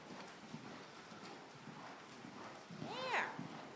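Hoofbeats from a horse named Red being ridden at a canter during a lesson, a steady soft clip-clop rhythm under an instructor's voice, with a brief higher animal call near the end.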